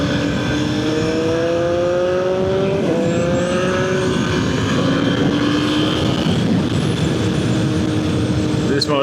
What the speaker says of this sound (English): This motorcycle is made for Ward Parkway bombing, let me tell you.